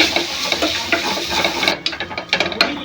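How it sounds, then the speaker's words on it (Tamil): Tomatoes being stirred and sautéed in a pan for a village-style vegetable biryani, with a steady sizzle and repeated scraping strokes of the spoon that grow sharper and more clicky toward the end, close up with no talking. "நல்லா தக்காளி சுருண்டு வதங்குற வரைக்கும் நல்லா வதக்கி விட்டுருங்க."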